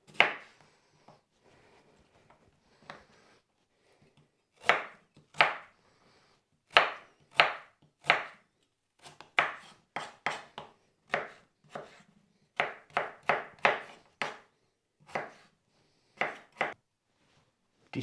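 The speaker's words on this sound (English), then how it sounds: "These need to be cut into small-ish pieces." A knife chops peeled potatoes into small pieces on a cutting board for a Cornish pasty, with sharp, close, distinct thunks. It opens with scattered cuts, then settles into quicker irregular runs of chopping.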